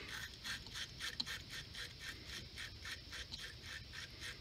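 A wire brush scrubs inside a car battery terminal clamp in steady, rhythmic back-and-forth strokes, close and fairly quiet, with no voice over it.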